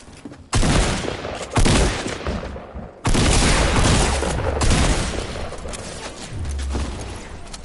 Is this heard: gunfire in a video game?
yes